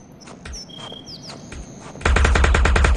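Rapid pistol gunfire from the VR shooter Aim XR, a tight burst of repeated sharp shots that suddenly dominates after a quieter stretch of thin electronic chirps and distant pops.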